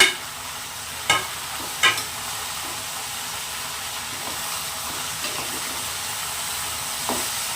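Chopped tomatoes fry in a pan for okra huli with a steady, close sizzle. A few sharp spatula knocks come early on, then gentler stirring scrapes and one more knock near the end.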